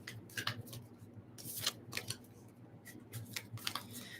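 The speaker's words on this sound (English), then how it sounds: "now we have these ones we're going to shuffle up." Tarot cards being shuffled up close, a run of soft papery riffles and flicks with irregular rhythm and brief sharper snaps, fairly faint and with no talking.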